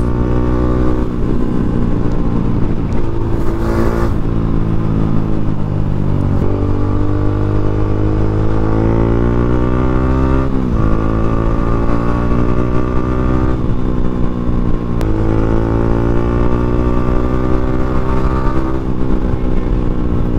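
Motorcycle fitted with an aftermarket 1445 muffler accelerates hard, its loud, steady exhaust drone rising and falling in pitch through repeated gear shifts, close and continuous with no talk.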